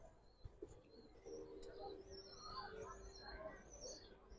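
Giribaz pigeons in a loft collection coo softly, low murmuring calls with a few thin chirps, faint and somewhat distant over quiet background noise.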